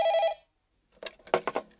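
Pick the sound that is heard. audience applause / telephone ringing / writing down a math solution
telephone ringing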